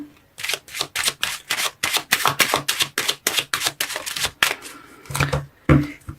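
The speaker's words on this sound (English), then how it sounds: "let me pull some Lenormand's cards to clarify the situation" Lenormand cards being shuffled and drawn, a fast series of crisp riffling and slapping card sounds close up, alone without talk, ending with a few slower single card placements.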